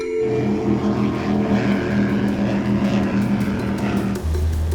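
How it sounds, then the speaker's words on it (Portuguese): A boat motor drones steadily while travelling on a river in the Amazon, a loud, continuous engine hum with a low rhythmic throb, shifting to a deeper tone near the end. "o barulho do motor do barco embala uma sensação estranha"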